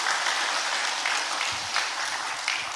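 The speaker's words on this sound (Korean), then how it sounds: "박수 한번 해주세요." Church congregation applauding during a Sunday service after the choir's performance, a dense, steady round of clapping lasting a few seconds with no talk over it.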